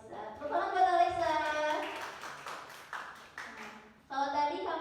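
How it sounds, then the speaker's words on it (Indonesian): People at a journalism workshop applaud for a student named Alexa, a scattered clatter of hands mixed with voices and cheering tones, dipping briefly before rising again at the end. "Tepuk tangan buat Alexa."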